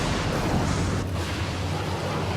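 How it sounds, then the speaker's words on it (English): Film special-effects explosion blowing up a building: a continuous, dense roaring blast rumble that stays heavy and steady throughout, with no voices. "We create an explosion as if our bad guy has put in several hundred pounds"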